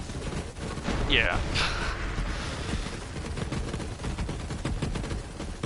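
Rapid gunfire crackles continuously during Borderlands 3 combat, dense shots layered with game effects while someone briefly speaks.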